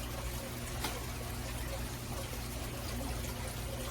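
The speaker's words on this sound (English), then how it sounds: "It was my cat's water fountain." A cat's water fountain trickles softly and continuously indoors, a faint steady stream of running water against a low background hum.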